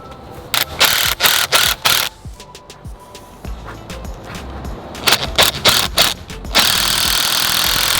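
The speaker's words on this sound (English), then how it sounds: "Adding our last couple little screws." A power driver sinking screws into the frame of a homemade reptile cage, with several loud, close bursts of whirring and grinding separated by short pauses, and a longer run at the end.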